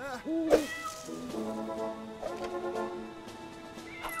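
A cartoonish cat meows a few times in the LEGO The Incredibles video game, with higher chirpy calls near the start and sustained tonal mewing over steady game music and ambience.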